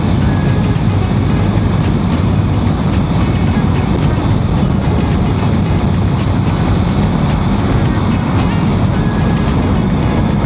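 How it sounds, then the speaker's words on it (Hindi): A Honda NX 500 with E-Clutch cruising on a ride, captured from the saddle as an unbroken loud droning roar of engine and wind that holds steady the whole time. "तो बाइक इतनी अच्छी चल रही है, सब बढ़िया है"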